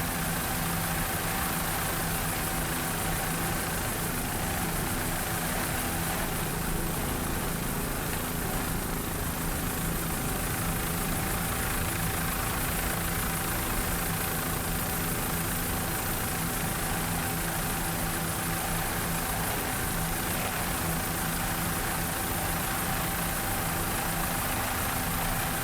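An offshore racing powerboat engine at the Daytona Harley-Davidson Offshore Grand Prix in Daytona Beach drones loudly and continuously, a dense rumbling engine roar that stays constant for the whole stretch without talk.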